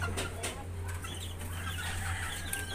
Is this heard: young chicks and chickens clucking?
yes